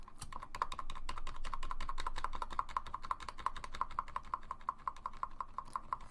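Quick, even clicks of a computer keyboard as Shift and arrow keys are tapped repeatedly, a close, steady run of key presses with no talking.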